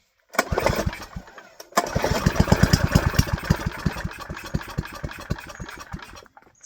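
A 1981 Tecumseh small engine sprayed with starting fluid cranks briefly, pauses, then fires and runs with a loud, steady rapid thumping close by, slowing and fading slightly toward the end.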